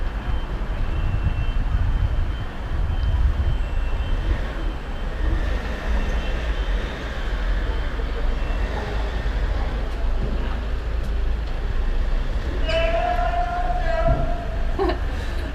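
Central Prague street traffic heard from high above, a steady low rumble of passing vehicles with a tram or train rolling through, a brief screech near the end and faint voices in the distance.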